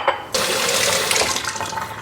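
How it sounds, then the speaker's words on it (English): Tap water gushes into a sink as oxidized copper wire jewelry is rinsed under it, a sudden loud steady rush after a brief clink, close and continuous with no talk. "I'm gonna rinse it in the water, and some water to rinse off that solution."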